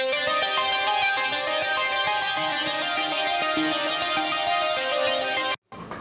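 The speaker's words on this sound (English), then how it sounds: "it's just saw waves with a bunch of voices that's kind of detuned. Then I'm taking this monster wavetable and I'm running an FM through it." Synthwave lead built from detuned, multi-voice saw waves fed through a large FM wavetable, giving a dense, metallic buzzing tone that plays a steady loud phrase, then cuts out abruptly near the end.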